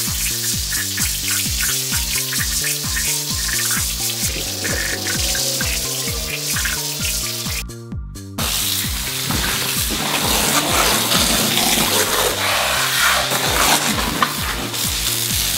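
Running water sprays and splashes steadily onto a soaked washable area rug during rinsing, close and loud, with a brief break midway before the spray resumes.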